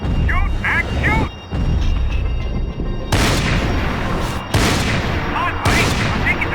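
Bursts of gunfire and heavy booms fill a Max Payne 3 firefight, loud and dense in several waves, with game voices shouting in the mix.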